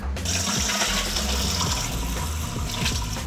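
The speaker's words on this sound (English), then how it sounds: "drain and refresh under cold running water" Blanched green vegetables drain and rinse under a cold running tap, a steady continuous splash of water into a sink lasting throughout, close and fairly loud with no talking.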